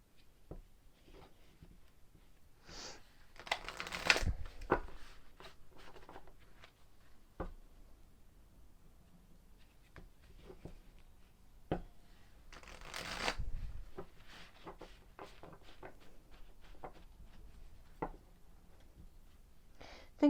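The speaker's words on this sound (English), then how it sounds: "any additional decks that I use, I'm going to have to shuffle live on camera" Decks of tarot cards shuffled by hand, with soft sliding and tapping, occasional sharp card snaps, and two louder riffle bursts spread over a long, quiet, close stretch with no speech.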